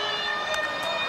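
A steady, sustained half-time siren wails through the whole moment at a rugby league match, St George Illawarra Dragons v North Queensland Cowboys, loud and unbroken, with faint crowd noise beneath it.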